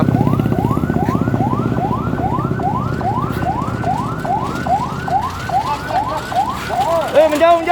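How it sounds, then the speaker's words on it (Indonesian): An ambulance siren wails in a fast, repeating rising sweep for several seconds, loud and close, with engine rumble beneath, ending as the tone shifts and breaks up. "Saat ini ambulan juga baru tiba"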